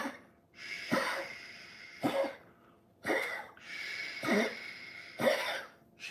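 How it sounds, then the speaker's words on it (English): Five separate coughs, spaced about a second apart, each a harsh burst with breathy hiss between them, close by and fairly clear. "She be coughing"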